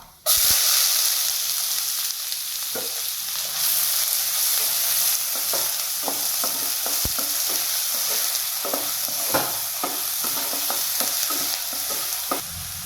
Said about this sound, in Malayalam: അരിഞ്ഞു വെച്ചിരിക്കുന്ന സവാള ഇട്ട് കൊടുക്കാം.